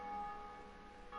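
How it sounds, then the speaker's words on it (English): A bell rung in Dark Souls Remastered sounds as a steady, resonant tone with a sustained ringing hum throughout, fairly faint and alone. "Someone rang the bell"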